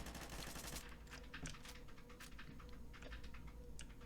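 Rifle fire from the video game Dread, a dense burst of rapid shots crackling close and loud through the first second, then scattered single and short-burst shots for the rest, with no talking.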